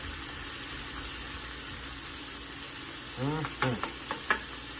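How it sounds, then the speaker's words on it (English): Steady sizzling of squash frying in a pan with jalapeno and chili, joined near the end by a few scraping, clattering stirs of a utensil against the pan; no talking. "I've added the jalapeno, a little kick, chili into my squash. Give it a stir."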